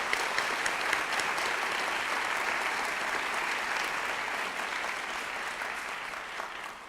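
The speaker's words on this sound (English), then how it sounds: "Let's give them a round of applause for bringing this together." Sustained applause from a sizeable audience at a Valdosta State University event, a steady, moderately distant patter of clapping that tapers slightly toward the end.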